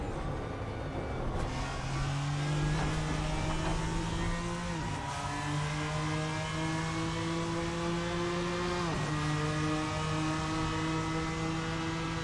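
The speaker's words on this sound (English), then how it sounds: "rumble and backfire sounds amazing in this car" A BMW M4 GT3 race car in Assetto Corsa at the Red Bull Ring pulls hard with a loud, close engine rumble, rising in pitch and dropping sharply at two upshifts, with no talk.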